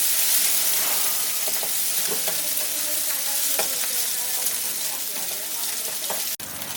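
Steady, close sizzling of an egg frying in a hot pan, with faint clinks and scraping now and then, running without pause.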